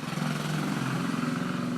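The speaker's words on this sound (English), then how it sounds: "Vintage motorbikes." A vintage motorbike's engine and exhaust run in a steady, loud, close drone with an even rumbling tone throughout, no voices over it.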